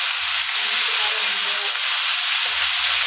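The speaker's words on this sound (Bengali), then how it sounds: "আমি এর মধ্যে এবারে সিদ্ধ করা লাউ আর মটরটা দিয়ে দিই। আমি একটু নাড়াচাড়া করে নেব।" Steady hiss and sizzle from a hot pan of spices as boiled bottle gourd and peas go in and are stirred, a continuous close frying sound with faint low knocks underneath.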